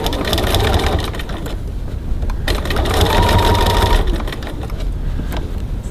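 Sewing machine stitching a seam on a lined bag with a gusset, a steady loud mechanical whirr running in bursts with a brief slowdown near the middle, no talk.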